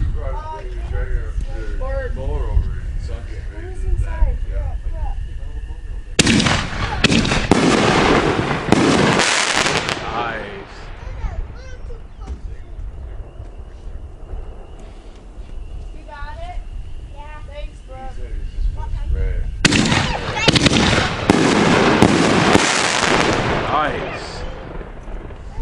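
Heavy Ordnance 1.75-inch canister shells from Great American Fireworks go off outdoors in two dense volleys of loud crackling bursts, with chatter and speech heard between them.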